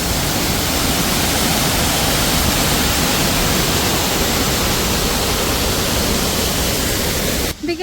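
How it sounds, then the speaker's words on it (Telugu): A waterfall roars with a dense, constant rush of water, loud and unbroken for the whole stretch, cutting off abruptly at the very end. "చూడు వాటర్ ఫాల్ ఎంత బాగుంది."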